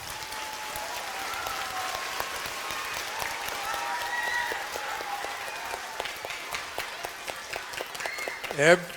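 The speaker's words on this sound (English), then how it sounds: "Give them a round of applause." A crowd at a school event applauds steadily for several seconds, many hands clapping at once, with a brief louder sound near the end.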